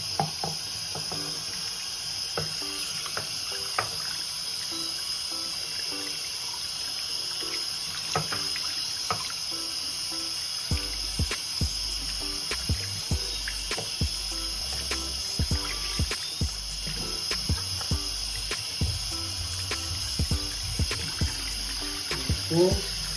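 Tap water runs steadily into a sink while a hair brush for 360 waves is rinsed, with a continuous hiss and trickle, a few soft knocks and splashes as the brush moves under the stream.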